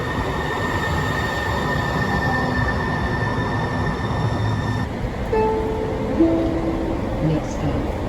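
A Seattle commuter train rolls along the rails with a constant loud rumble and high, sustained wheel squeal, a tone shift partway through as the track sound changes.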